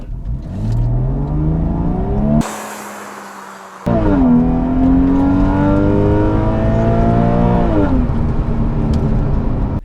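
A car engine revs hard through rising gear pulls during a 0 to 60 run, pitch climbing then dropping at each shift, with a brief sharp cut in the middle; loud and close.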